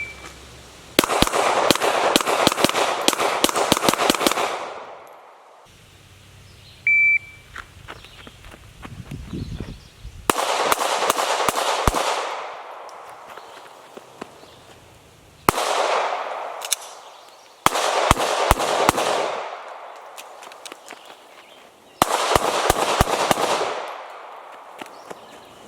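A Brownells G17 pistol build fires in a shooting montage: loud, sharp gunshots in rapid strings of several shots each, separated by short quiet gaps, with a few scattered single reports and clanks between.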